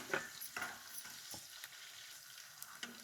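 Onion and garlic sizzle and fry in a pan, a steady crackle with a few louder spatters and stirring scrapes, close and alone with no voices.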